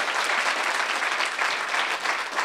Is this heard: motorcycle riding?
no